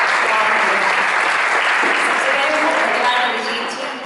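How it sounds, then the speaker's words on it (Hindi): Dense, steady applause from a studio audience at a Hindi poetry event on seasons and festivals, loud and sustained throughout before tapering slightly at the end. "तालियां"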